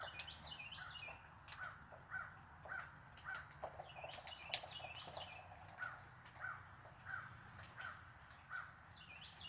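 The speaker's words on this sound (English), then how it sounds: "the birds are singing and the crows are crowing" Crows caw in repeated pairs of harsh calls at a moderate distance outdoors in the morning, while smaller birds chirp faintly against a low background hum.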